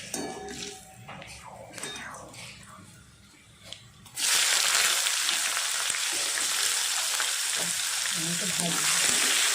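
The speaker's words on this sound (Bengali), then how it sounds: "তারপরে পেঁয়াজটা ভাজা হচ্ছে" Onion and whole garlic cloves frying in a pan: quieter clatter and movement first, then a sudden loud, steady sizzle that carries on to the end.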